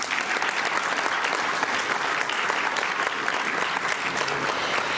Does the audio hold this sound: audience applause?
yes